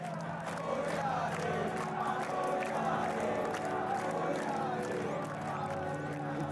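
A large, dense crowd packs the waterside at a Ganpati festival immersion in India. Its steady roar of many voices, shouts and movement stays loud and continuous throughout, with no single speaker standing out.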